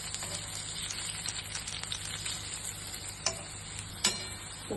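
Alu vadi, colocasia leaf rolls, shallow-fry on their second side in a pan, giving a soft continuous sizzle with faint ticking crackles and a couple of louder clinks near the end, quiet and close, no voices.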